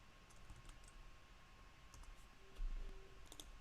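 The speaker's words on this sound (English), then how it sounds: "Let me just type a message." Fingers type a short message on a computer keyboard, quiet scattered clicks in small bursts over a faint steady hum, closer and louder near the end.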